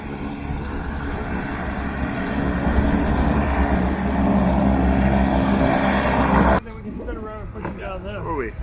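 A propeller aircraft drones loudly and steadily for several seconds, then cuts off abruptly, leaving voices talking over a quieter background.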